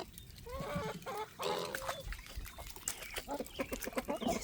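Chickens clucking and murmuring close by as they wade in shallow floodwater on a farm, soft irregular calls with faint splashing beneath.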